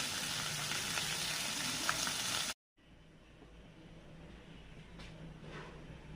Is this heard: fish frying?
yes